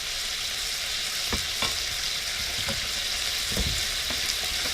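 Onions fry in a very hot wok aboard a boat, a loud, continuous hiss and crackle with occasional soft clanks of a utensil against the pan; no voices.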